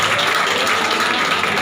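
An audience at a science training session claps in a dense, steady burst of applause that lasts throughout the short moment.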